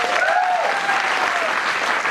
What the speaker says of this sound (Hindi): मेरे स्टाफ मेंबर्स के लिए एक जोरदार तालियां।